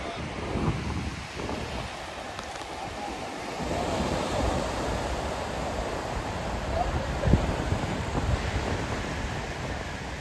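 Sea waves wash onto the beach at Bagda in a steady, broad roar mixed with wind noise, continuous and moderately loud with no clear breaks.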